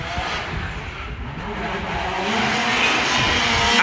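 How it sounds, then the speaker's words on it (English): A car engine firing up and revving at a drift practice session, a broad steady roar that builds slightly over the few seconds, heard fairly close with no talk. "I can hear a car starting up."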